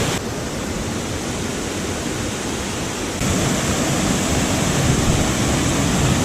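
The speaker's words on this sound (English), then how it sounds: "This is waterfall number 1, 4 meters tall." Four-meter waterfall in Pekel Gorge, Slovenia, a steady, dense roar of falling water close by, growing slightly louder partway through and continuing unbroken with no voices.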